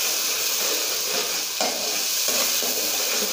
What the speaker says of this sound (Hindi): तो हम अच्छी तरह से फ्राई करेंगे